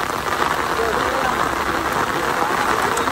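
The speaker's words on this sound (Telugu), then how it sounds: "వర్షం మళ్ళీ ఎక్కువైంది" Heavy rain falling steadily, a dense, even hiss throughout with no let-up, fairly loud and close.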